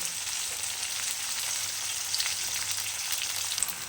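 Onions sizzle steadily in a hot pan, a soft continuous crackle and hiss with occasional brief pops and stirring noises, no voices present.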